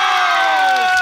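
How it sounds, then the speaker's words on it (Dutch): A children's audience at a live family show cheers and shouts loudly in one brief, steady burst of high voices. "Ik wil een keihard applaus voor deze twee."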